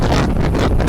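Cold wind blows loudly across open farm fields, buffeting the microphone in a continuous roaring rush with no talking.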